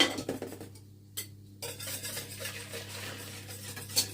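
A spoon stirring homemade custard in a pan, steady scraping and clinking against the metal that carries on without pause, close and fairly loud over a low hum.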